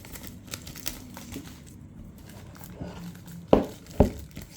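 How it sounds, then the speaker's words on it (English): Plastic wrap peeled and crinkled off an ASUS ROG Ally handheld gaming console box, light rustling through the clip, then two sharp, close tearing crackles near the end. "now we can get off the plastic wrap"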